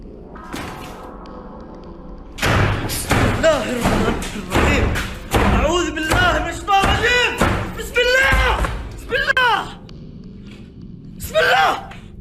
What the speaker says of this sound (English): The door is slamming repeatedly by itself.